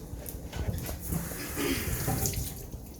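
Tap water runs steadily into a sink as a halved onion is rinsed under the faucet, a continuous splashing rush with small shifts in tone, close and alone without speech.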